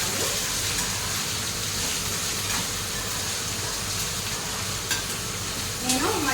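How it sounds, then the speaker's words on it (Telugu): Onion and green chillies frying in a hot tempering pan with curry leaves, a steady close sizzle running throughout with a few light stirring clicks near the end. "ఆనియన్ పచ్చిమిర్చి అనేది బాగా ఫ్రై చేసుకోవాలి"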